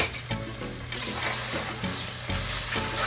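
Garlic paste stirred into a pot of Louisiana shrimp gumbo with pepper, parsley and green onion, giving a steady sizzle with scraping spoon strokes throughout, fairly loud and close, no talking.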